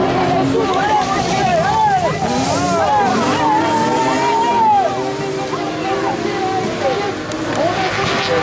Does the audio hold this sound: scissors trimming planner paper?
no